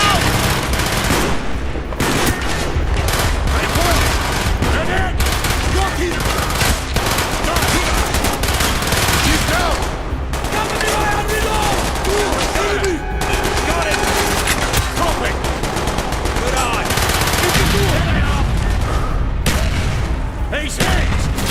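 Heavy gunfire from a British commando assault in Call of Duty: Black Ops fills the scene with dense, continuous bursts of machine-gun and rifle fire and occasional booms, loud and sustained throughout, with shouted voices now and then.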